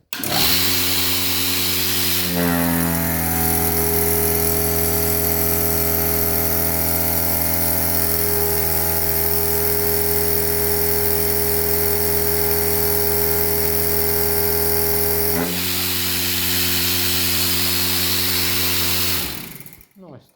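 A milking machine vacuum pump on a farm starts up and runs with a loud, steady droning hum for several seconds, then cuts off and winds down.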